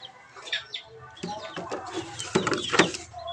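Four-month-old gamecocks in a cage give soft, scattered clucks and short calls up close, growing busier and louder toward the end.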